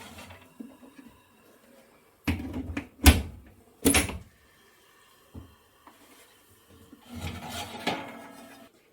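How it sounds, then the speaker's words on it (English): An oven door bangs open and metal baking trays of meatball subs clatter out in several sharp knocks and scrapes, followed by softer rattling and shuffling. "Remove the trays from the oven"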